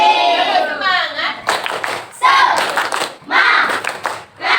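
A fourth-grade class does a rhythmic clapping chant, bursts of children's hands clapping in patterned groups mixed with their voices chanting along, loud and close.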